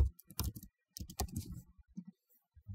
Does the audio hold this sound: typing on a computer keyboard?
yes